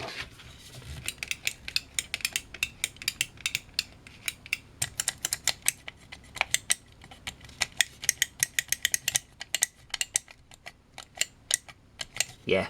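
A de-rattled, rebuilt vintage Microswitch joystick being worked back and forth close up, giving rapid, irregular mechanical clicks and ticks in dense bursts with short pauses.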